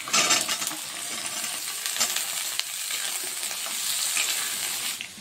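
Potatoes fry alongside capsicum in hot mustard oil, a close, continuous crackling sizzle with occasional clicks of a utensil against the pan, steady throughout and free of talk.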